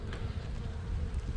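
Honeybees hum steadily around an open hive as frames are worked, a dense close buzz with no clear breaks and some wind rumble underneath.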